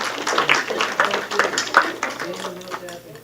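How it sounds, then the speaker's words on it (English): An audience at a Cleveland City Council work session claps for a district coach of the year, a scattered run of claps mixed under close voices and chatter. "let's clap for Coach"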